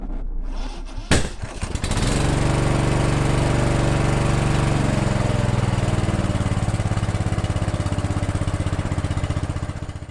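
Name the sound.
16 horsepower ride-on mower engine running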